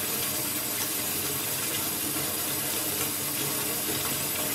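Rats swimming and splashing in water, giving a dense continuous watery rush like running water that fills the whole stretch, loud and close, with no voices.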